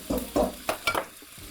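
Broccoli pasta stirred in a pan with garlic and olive oil, four or five close scraping, clattering strokes over a soft sizzle.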